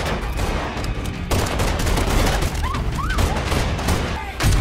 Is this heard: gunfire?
yes